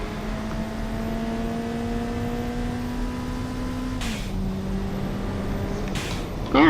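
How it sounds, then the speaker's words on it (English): Turbocharged car engine in the Automation video game, a smooth steady simulated engine tone that drops in pitch at a gear change, with brief whooshing bursts of turbo or shift noise. "we didn't hear the turbo engine before"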